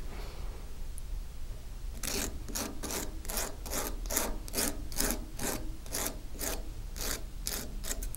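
A medium grit emery board rubs back and forth over the edges of hand-sawn metal jewelry shapes, producing a steady run of about a dozen close, crisp rasping strokes in even rhythm with no talk.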